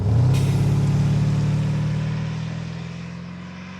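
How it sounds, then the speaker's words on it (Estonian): A Porsche Cayenne Turbo (957) SUV's deep, rumbling engine revs up close, its low exhaust growl holding strong before gradually easing off. "sa kuuled tagant seda summuti heli ja eest siis seda, kuidas mootor töötab lihtsalt, kui gaasi on"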